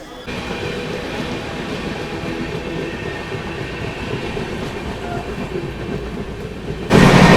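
The SMVT Bengaluru–Visakhapatnam weekly express runs steadily on rails near Bhimadolu, a continuous loud rumble with rhythmic wheel clatter from inside the moving carriage, swelling louder at the very end.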